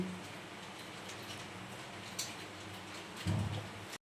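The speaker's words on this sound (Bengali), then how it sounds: "অনেক জোরে বৃষ্টি শুরু হয়ে গেছে" Dense, steady rain pours down, a constant hiss of drops on surfaces, with a low rumble near the end.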